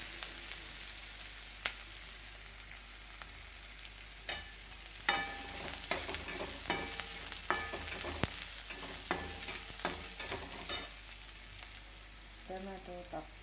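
Onion frying in a pan as tomato is added for a dry ridge gourd dish, a steady sizzle under repeated scraping and stirring clinks from a spoon, with a brief clatter near the end.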